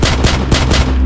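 Rapid automatic gunfire from a video game firearm, loud and close, a steady string of about five evenly spaced shots within a second, heard alone.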